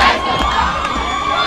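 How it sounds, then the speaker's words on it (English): Home crowd at a varsity high school football game cheering and shouting loudly, a dense roar of many voices including younger ones, sustained for the whole brief moment. "And you can hear the crowd getting fired up."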